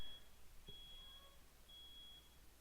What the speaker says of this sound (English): I hear a smoke alarm.